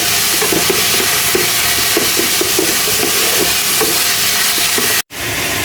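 Malabar spinach greens sizzle and hiss as they fry in a wok, a loud, steady crackling that runs unbroken for several seconds before cutting off abruptly.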